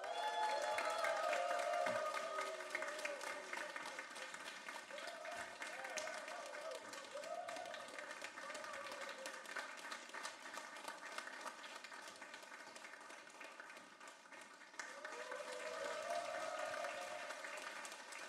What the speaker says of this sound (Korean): 다시 한번 큰 박수 보내주시고요.